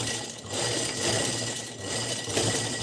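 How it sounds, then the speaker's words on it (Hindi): Sewing machine stitching steadily at home, a continuous loud whirring hum with a fast mechanical rhythm and no pauses. "सिलाई कर रही हूँ।"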